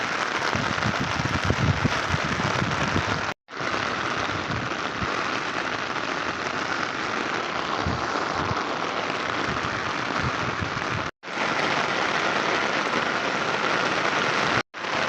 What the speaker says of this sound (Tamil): ஒரு மணி நேரம் ஆச்சுங்க மழை இன்னும் பெஞ்சிக்கிட்டே இருக்குது